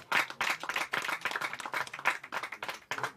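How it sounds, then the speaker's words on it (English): An audience at a groundbreaking and allocation ceremony for a housing estate in Ibadan claps loudly, with bursts of applause rising and falling in waves for about three seconds and no talk over it. "A lot of applause for that."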